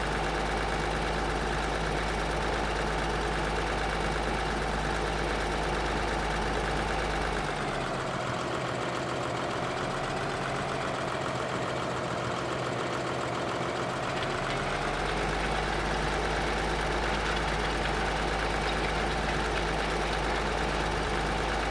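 A tractor engine in the video game Farming Simulator 2013 runs at a continuous deep drone, briefly dipping in pitch and load partway through before returning to a steady rumble, with no talking.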